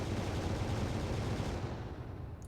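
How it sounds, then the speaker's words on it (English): Kinetic cannons fire in the Final Theory video game as a dense, continuous rumbling barrage, loud and unbroken, easing slightly toward the end with no voices over it. "I still have kinetic cannons."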